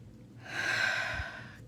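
A single slow, audible inhale through the nose and mouth, close and soft, rising gently then easing off, heard alone in a quiet room.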